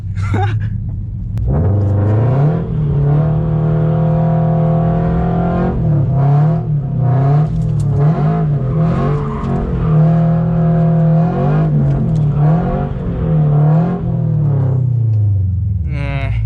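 A Toyota GR86 engine revs hard and steadily through a drifting run, its loud sustained drone rising and falling in pitch for the whole stretch, close up with occasional muffled sounds over it.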